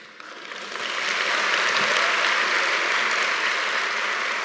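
Crowd applause building quickly from scattered claps to a steady, loud wash of clapping that holds evenly, as at a high school graduation ceremony.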